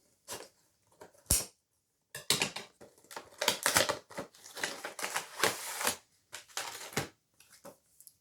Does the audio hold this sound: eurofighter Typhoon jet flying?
no